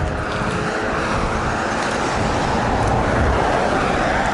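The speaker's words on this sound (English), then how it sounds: "There's an idiot behind it with a convertible sports car" A convertible sports car passes on a road near Bracknell, a steady broadband rush of engine and tyre noise that swells slightly as it goes by, mixed with general traffic.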